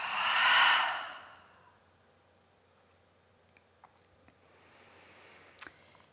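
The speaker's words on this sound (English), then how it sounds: "And then exhale, let it go." A long breathy exhale at the end of a shoulder-shrug breathing exercise, close and clear, fading after about a second, followed by near silence with a few faint clicks and a soft breath near the end.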